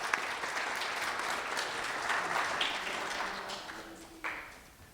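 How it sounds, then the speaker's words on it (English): An audience applauds the finalists of a children's speech competition, a steady, fairly quiet wash of many hands clapping that thins and fades toward the end, with a faint voice briefly rising near the close. "a big round of applause again for all our wonderful contestants"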